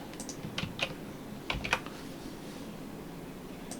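Computer keyboard typing at a desk, a few scattered light key taps over a quiet fan-like background hum, fairly close, with no talking.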